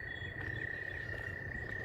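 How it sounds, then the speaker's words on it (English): Tree frogs sing at sunrise in springtime Arkansas woods, a steady high-pitched trill running unbroken through the whole stretch over a low outdoor rumble, with no voices. "I hope you can hear them tree frogs."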